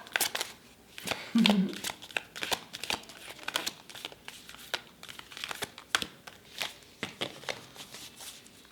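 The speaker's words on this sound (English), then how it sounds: "One more shuffle." Tarot cards are shuffled close by, with a series of quick papery riffles and crinkly flicks in uneven bursts, and a faint voice briefly in the background.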